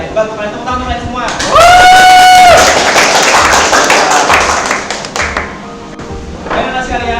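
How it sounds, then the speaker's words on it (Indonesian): Classroom students clap their hands together in a loud, dense burst of applause that builds and continues for several seconds, with a voice speaking over the start and end of the clapping. "kalian tepuk tangan kalian semua"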